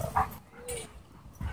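A pit bull snapping at other dogs with short, sharp yips and growly barks in quick bursts, close by with scuffling between them.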